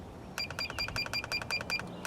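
A battery tester beeps rapidly while running a cold cranking amp test on a regular flooded car battery rated at 650 CCA: about a dozen evenly spaced, sharp, high electronic beeps, close and clear.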